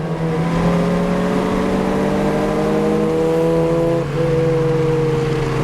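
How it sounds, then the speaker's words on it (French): A Citroën Saxo VTS hatchback engine pulls steadily through its gears, the drone rising in pitch, dropping at a shift, then climbing again, heard from inside the car. "Et dès qu'on veut accélérer, ça y va tout seul."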